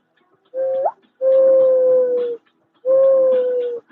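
Three hollow, breathy hand-blown notes imitating a mourning dove's coo: a short rising note, then two longer sustained tones, each followed by a pause.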